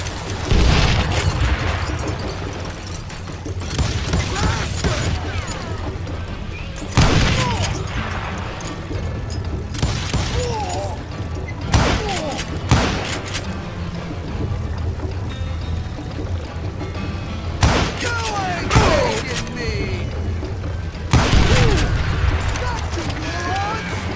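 Gunfire in the western shooter game Call of Juarez: Gunslinger, repeated loud booming shots and bursts in clusters, with a character speaking over the action.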